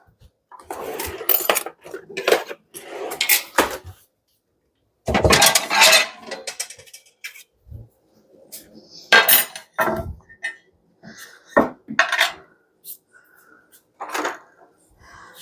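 Metal kitchen utensils clink and clatter in short, bright bursts as an apple corer and paring knife are grabbed for coring and peeling apples, with brief quiet gaps between the rattles.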